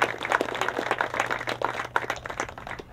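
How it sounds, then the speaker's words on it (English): An audience at a fall teaching summit applauds the staff, giving a brief round of dense clapping at moderate distance that tapers off after about three seconds. "So maybe we could ask for a round of applause for the staff."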